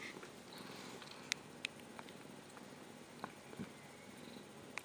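A cat purring very softly and close, a low continuous rumble with a few small clicks and sniffs scattered through it, no talk.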